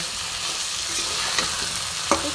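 A paste of turmeric, cumin and ginger fries in a pan for a fish curry, giving a steady close sizzle with a couple of sharp spatula scrapes and clinks.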